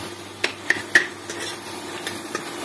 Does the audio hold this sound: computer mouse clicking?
no